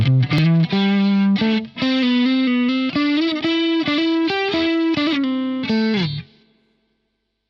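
Electric guitar through a very slightly crunchy amp with the overdrive pedal switched off, playing a short melodic phrase of sustained single notes with mild grit and chorus-like shimmer, close and alone before ringing out to silence.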